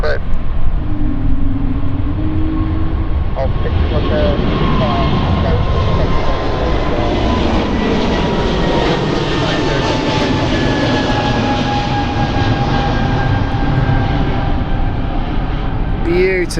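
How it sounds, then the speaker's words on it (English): A Swiss Airbus A220 jet departs London City Airport, its engine roar loud and steady for the whole stretch, sweeping past with a rising and fading tone. Faint talk can be heard beneath it. "You've got to love an Airbus A220. Well done, Swiss."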